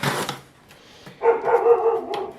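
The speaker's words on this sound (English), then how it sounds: "we'll say hi to the neighbor's dog as well" A dog barks once near the start, then after a pause gives a longer, higher whining yelp, fairly close and clear with no talking.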